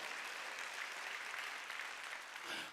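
A church congregation claps together during a Thanksgiving Sunday worship service, a faint, steady, continuous wash of many hands heard from a distance, with no voices over it.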